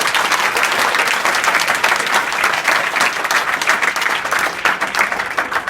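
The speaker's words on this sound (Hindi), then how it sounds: "तो ताली मारो जोर से" Schoolchildren at a village secondary school clap loudly and continuously, a dense, even wave of applause that holds at full strength throughout.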